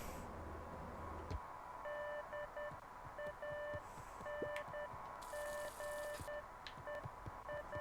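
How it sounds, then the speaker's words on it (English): Faint, regularly spaced electronic beeps in the video game Beacon Pines, repeating in short patterned groups like a signal over a low ambient hum. "A faint electronic sound floated in the air."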